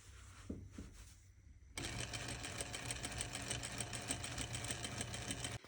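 A sewing machine stitches the collar of a shirt dress: a brief start-stop burst of stitching, then a steady rapid mechanical whir that runs close and alone until it halts near the end.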